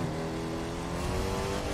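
A car engine revving in the racing video game The Crew 2, a steady, sustained mechanical drone with a slowly rising pitch, loud and continuous throughout.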